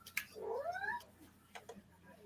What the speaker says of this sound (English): I heard kitty.